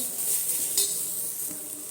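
Chapati noodles tossed into a hot pan with vegetables, giving a soft steady sizzle and brief scrapes of a spoon stirring, close and fairly quiet.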